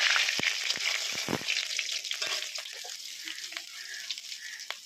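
Whole cumin and bay leaf sizzle in hot oil for a Bengali gourd curry, a steady close frying hiss with small crackles and pops and no talking over it.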